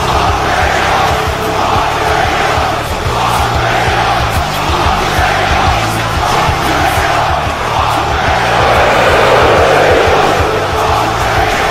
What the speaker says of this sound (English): the crowd showing how they feel about Trae Young as well